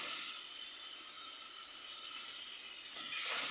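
Steady loud sizzle and hiss as tomato and seasoning broth hit a hot pan of vegetables for homemade pasta, a continuous frying rush with a slight swell near the end.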